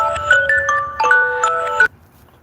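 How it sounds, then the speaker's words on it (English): A phone alarm plays a bright, rippling melodic ringtone outdoors on a cold morning, repeating a short chime pattern for about two seconds before cutting off abruptly, close and fairly loud over faint background noise. "That's my alarm."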